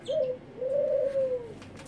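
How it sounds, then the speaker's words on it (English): Doves coo nearby, with a short low call followed by a longer, steady drawn-out coo. The calls are clear and there is no talk over them. "I'm sorry about the doves in the background, but they're cute."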